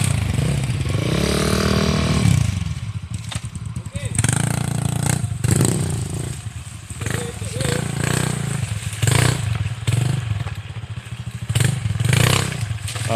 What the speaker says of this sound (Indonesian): Ah, buang aja nih motor.